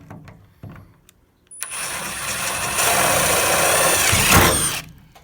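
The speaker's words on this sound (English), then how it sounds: "Might as well use a drill gun." A drill gun bores body mount holes in a Losi 5ive-T 2.0 RC car body, starting after a couple of soft knocks and whirring loudly and steadily for about three seconds before stopping.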